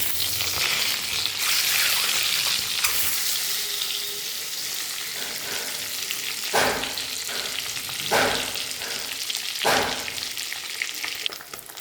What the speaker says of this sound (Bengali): ডিমগুলো লাল লাল করে ভেজে নিয়েছি